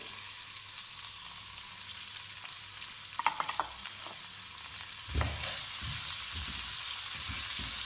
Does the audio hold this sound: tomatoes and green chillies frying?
yes